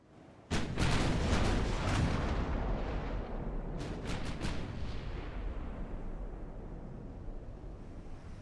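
A 13-inch naval gun firing and striking its target in Ultimate Admiral: Dreadnoughts: a sudden loud, roaring blast that rolls on, with a second cluster of sharp cracks midway, then a long, slowly fading rumble.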